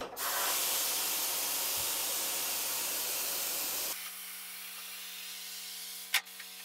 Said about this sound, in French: Allumage du compresseur.